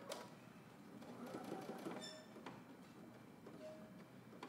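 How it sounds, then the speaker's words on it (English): A sewing machine stitches into the corner of a swim trunk piece, a fast mechanical whirring rattle close by that runs in bursts and then slows and stops, with a few faint clicks afterward. "We're going to sew into this corner right here."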